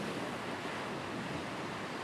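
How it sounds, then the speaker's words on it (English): Waves wash onto the shore beside an old house by the sea, a dense, continuous surf roar with no break in loudness and no voices. "She loved the sound of the waves"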